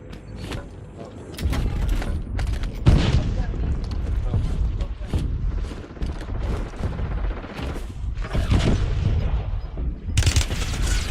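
Gunfire in Warzone, loud repeated bursts and booming shots layered densely over one another, with occasional speech in the mix.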